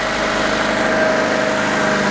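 A Honda Civic D-series four-cylinder engine idles steadily and smoothly after a timing belt replacement, a loud, even, close hum with no talk.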